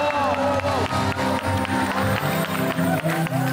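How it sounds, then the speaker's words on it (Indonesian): Studio audience applauding and cheering for Atta Halilintar on a television show, a dense crowd clatter running throughout under loud, bright music. "Tepuk tangan untuk Atta Halilintar."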